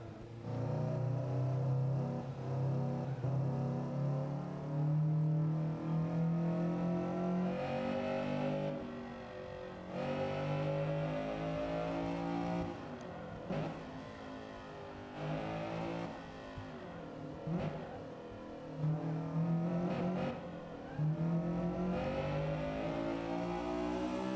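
A Honda Civic EG6 engine revs hard around a race track in the Assetto Corsa racing game, a loud, continuous buzzing drone that rises and falls with gear changes and never lets up for the whole stretch.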